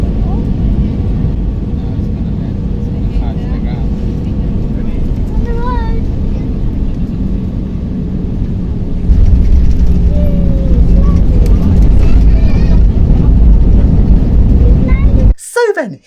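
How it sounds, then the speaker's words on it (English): A Nouvelair airliner arriving at Tunis airport gives a steady loud roar of engines and air rush that grows heavier midway, then cuts off abruptly near the end. "here's the airplane arriving into Tunis airport"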